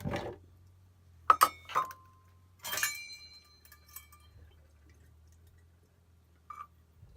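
Cashews for a raw vegan ganache pie being measured out in an RV kitchen, heard as a few light clinks and rattles of nuts against a glass cup, with a quiet low hum underneath and no talking.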